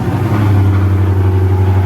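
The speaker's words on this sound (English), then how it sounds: "Let's get a cool little cold start on the 5'7" Hemi thing" A Chrysler 300 SRT8 with a 5.7-litre Hemi V8 sits just after a cold start, idling with a loud, deep, steady rumble close by.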